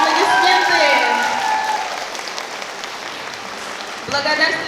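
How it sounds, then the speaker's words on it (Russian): Audience applause at an awards ceremony for an anniversary celebration, loud clapping that starts under a voice and music tones, settles into a steady crowd clap, then is joined by music again near the end. "Бурные аплодисменты!"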